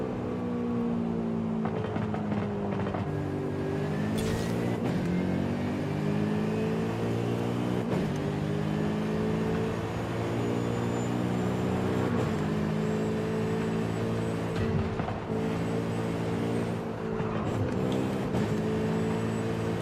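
Car engine in Forza Horizon 5 revving steadily toward its rev limit, with a continuous loud harmonic drone that rises and dips through several gear changes, alone without talk.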